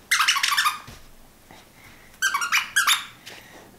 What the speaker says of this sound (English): Other rewards come in the form of things like squeaky toys.